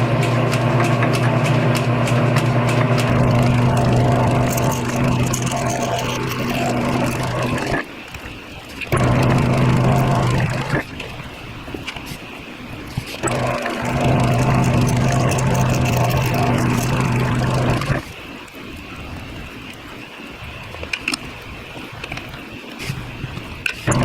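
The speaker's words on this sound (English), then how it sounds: "So what I'm going to do is just chalk this up in the lathe and take a little bit out" A lathe turns down a small plastic sleeve for a car evaporative system repair, a steady whirring machining drone with harmonic hum that cuts off briefly a few times, loud and close with no talk.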